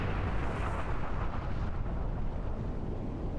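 Ship weapons fire and explosions from a Star Trek Online space battle form a dense, continuous roar of blasts and rumbling booms, loud and close throughout.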